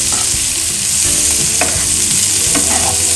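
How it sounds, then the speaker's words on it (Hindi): Chopped onions hit hot butter in a pan for butter chicken, a loud continuous sizzle with occasional clinks and scrapes of a spoon stirring, close up and without talk. "चलिए हम प्याज भी डाल देते हैं इसी में।"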